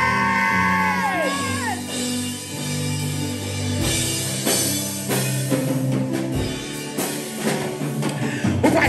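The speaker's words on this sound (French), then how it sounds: "pousser, on crie, Jésus!" A church congregation shouting and crying out together in loud, overlapping calls over sustained music, with voices rising and whooping throughout the worship service.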